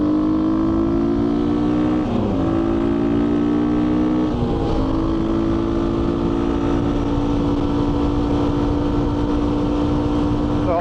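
A GPX FSE250e motorcycle cruising at around 60 mph on a national speed limit road gives a steady engine drone with wind rush, the pitch briefly dipping twice as the throttle shifts, then holding even.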